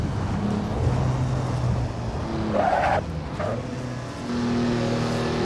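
A classic sports car in a VR racing game roars under steady load, its engine note rising and shifting through gears with a brief skid-like squeal, loud and continuous without talk.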